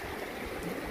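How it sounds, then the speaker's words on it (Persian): Steady rushing of flowing river water, broadband and continuous with a soft gurgle, close by and unbroken for the whole short moment. "رودخانه زیبا با این آب تمیز"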